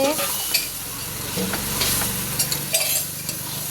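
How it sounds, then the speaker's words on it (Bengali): Crab frying in a pan is stirred with a utensil, giving continuous close sizzling broken by repeated scraping and clinking strokes, with no talk. "এতখানি ক্যাংড়া দিয়ে এটা একটু নাড়াতে হবে"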